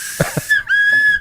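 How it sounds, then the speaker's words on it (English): A small handheld train whistle is blown twice in quick succession, producing short, shrill, close tones, preceded by a couple of soft thumps. "That's a train whistle."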